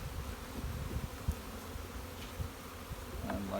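Bees crawling over a frame being moved between hives during a colony split, giving a steady close buzzing hum with a few louder passes, heard alone.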